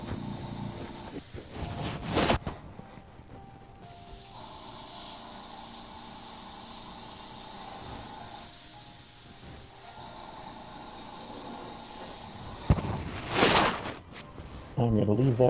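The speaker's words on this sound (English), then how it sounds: "So here we go again, cleaning the airbrush." An airbrush is being cleaned, with sharp, loud bursts of spray at the start and near the end and a long, quieter, steady hiss of air between them.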